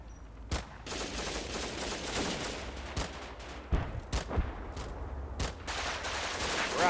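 Gunfire in the WWII strategy game Combat Mission Final Blitzkrieg, a ragged fusillade of rifle and machine-gun bursts with several sharp cracks over a continuous din of battle, distant and moderately quiet.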